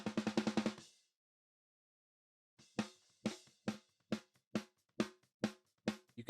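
A snare drum played through a noise gate that chokes off hi-hat and kit bleed: a quick roll of hits, a silent pause, then a steady series of sharp, clipped snare strikes, each cut off abruptly, heard close and alone.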